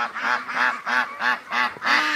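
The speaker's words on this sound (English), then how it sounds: "Come on, ducks, you're at the wrong end." Ducks in a barn quack steadily, about five evenly spaced loud calls close by, each a drawn-out nasal honk.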